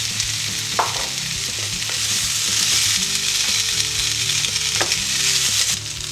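Potatoes and onion sautéing in a pan for patatas revolconas, a loud, continuous oil sizzle with occasional scraping and stirring knocks, close up and with no talking.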